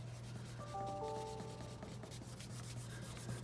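A finger rubbing graphite pencil shading on paper, soft repeated close strokes in one direction, quiet against a faint steady background hum.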